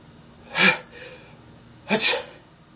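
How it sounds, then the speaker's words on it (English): Two sharp, breathy bursts a second apart, like a person's failed attempts to sneeze, with a soft gasp between them and quiet otherwise. "I tried to sneeze"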